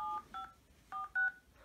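A phone number is dialed on a telephone keypad: several short, clear touch-tone beeps in quick, uneven groups, close and fairly quiet, with no talking.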